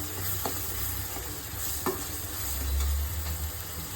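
Green chillies frying with onions in a pan hiss and crackle steadily while a spatula stirs them, with occasional scraping knocks and a low rumbling undertone, close and fairly loud, with no talking.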